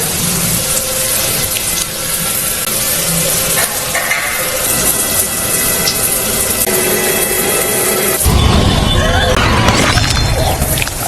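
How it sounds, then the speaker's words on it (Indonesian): Showers in a shower room turn on by themselves, a continuous broadband hiss of running water that swells louder near the end, mixed with other background sounds. "semua shower yang menyala dengan sendirinya"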